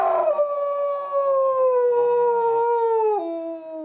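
A person imitates a howl with their voice, starting high like a squalling cat and gliding down into a long, sustained wolf howl. It is a single continuous wail, close and fairly loud, with a pitch drop near the end.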